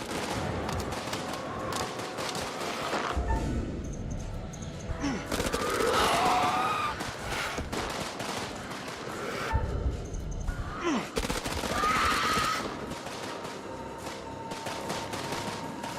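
Gunfire echoes in the video game House of Ashes, with scattered bursts and heavy thumps spread across the passage amid background game noise and brief vocal sounds.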